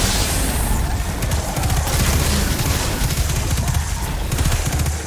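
Gunfire in the video game Destiny 2 rattles on continuously with a dense, booming grenade blast and steady shots loud throughout.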